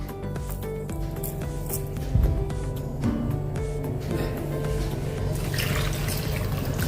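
Boiled lotus stems are rinsed with water in a kitchen, with pouring, splashing and sloshing sounds, close and continuous, including a brief knock partway through.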